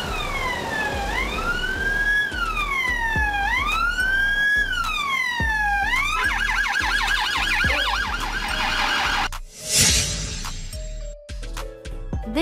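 A loud police car siren wails alone, rising and falling in long sweeps and then switching to a faster yelp, before a brief break of other noise near the end.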